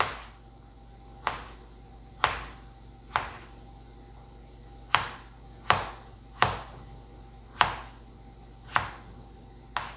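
Potatoes are sliced with a knife on a cutting board, about ten sharp, separate chops at an irregular, unhurried pace, close and clear with no talk.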